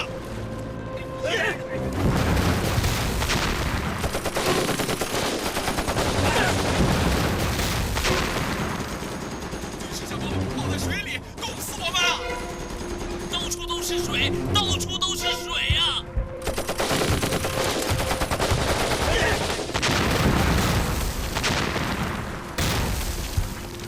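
Heavy gunfire and booming explosions fill a war film battle scene, with continuous machine-gun bursts and blasts layered under shouted dialogue as troops and tanks are trapped on icy, flooded roads.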